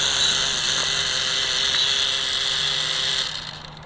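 A Parrot Bebop drone's motors run with a steady high-pitched whine and buzz, close and continuous, easing down slightly at the end.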